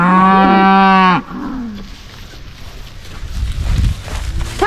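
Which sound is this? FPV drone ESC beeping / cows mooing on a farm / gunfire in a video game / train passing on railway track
cows mooing on a farm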